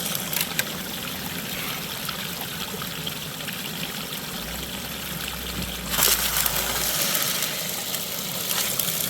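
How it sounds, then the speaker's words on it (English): Water rushes steadily through the hopper of a Gold Hound sluice, washing small gravel with a constant, close, even trickling wash and a brief low hum partway through. "Got a nice water flow coming out of here in the hopper area here."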